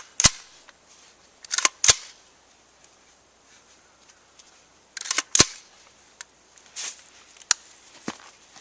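A rifle is charged in the field, its action snapping back with sharp metallic clacks in a few quick bursts, loud and close, separated by near silence.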